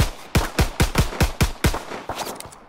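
Pistol fire from Call of Duty: WWII game: about nine sharp, loud shots in a quick, fairly even rhythm, with a few softer shots trailing off at the end.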